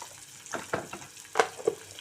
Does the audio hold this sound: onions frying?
yes